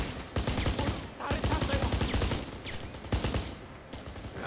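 Rapid bursts of automatic gunfire from a firefight in the video game Kane and Lynch, loud and dense, with short gaps between volleys and a few muffled voices under the shooting.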